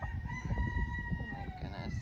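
Backyard chickens, a rooster among hens, fill the space with steady low clucking and murmuring, with a drawn-out tonal call running through it close by.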